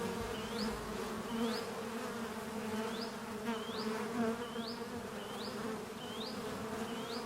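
A dense, steady buzzing of a large bee swarm, close and continuous, with a few short chirping sounds over it.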